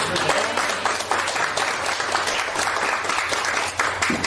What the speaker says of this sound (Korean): 다시 한번 우리 하나님께 감사와 찬송의 박수 한번 올려드릴까요?